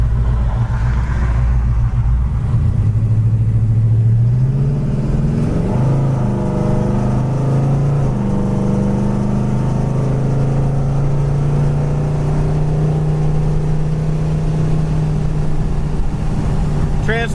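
A 1968 Pontiac GTO on the road, its engine droning loud and close, rising in pitch as it accelerates, dropping as the transmission shifts, then holding a steady cruising hum.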